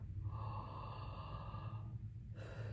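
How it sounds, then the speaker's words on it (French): A slow, deep belly inhalation drawn in as a breathing demonstration, a long airy rush lasting about two seconds, close and quiet, followed by the start of another breath. "Vous allez rien qu'à l'oreille entendre la différence de sonorité profondeur entre cette respiration-là"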